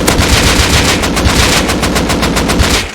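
AK rifle fire rattles in fully automatic bursts in the video game Rust, loud and close, with rapid sharp shots crowding together and no talking.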